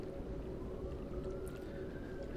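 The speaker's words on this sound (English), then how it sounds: "Sirens going off in the background." A wailing siren in a video game drifts slowly upward in pitch, steady and fairly distant, set against a constant low rumble of background noise with no talking.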